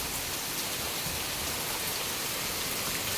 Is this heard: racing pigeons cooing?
no